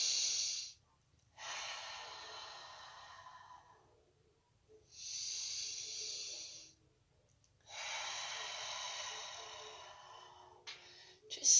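Slow, deep breaths during a stretching exercise: three long, airy inhales and exhales separated by quiet pauses, close and fairly soft.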